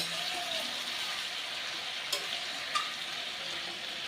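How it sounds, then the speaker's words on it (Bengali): A pan of rohu fish-head oil and fish-head mixture sautés for a Bengali pui shak chhechra, giving a steady, moderate sizzle with a couple of soft stirring knocks, close and without talking. "সমস্ত কিছু খুব ভালো করে কষানো হয়ে গেছে"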